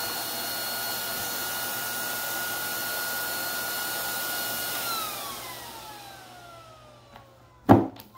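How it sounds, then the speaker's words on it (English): A Leister-powered Monster Banner heat welder blows hot air steadily over a 6-foot by 8-foot promotional banner, a loud continuous whoosh with a whine that drops in pitch as it winds down, ending with a sharp knock. "I use my Monster Banner heat welder powered by Leister technology"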